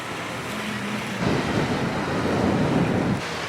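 Small ocean waves at Jericoacoara beach in Brazil, a steady wash of surf with a swelling break partway through, mixed with wind noise on the microphone.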